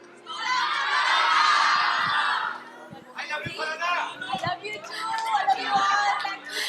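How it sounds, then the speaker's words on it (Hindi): A crowd of fans at a fan meet for a celebrity shouts her name in a loud, sustained roar, then breaks into scattered overlapping yells and cheers nearby. "बाकी एक बार फरहाना के नाम से चिल्ला दो भाई"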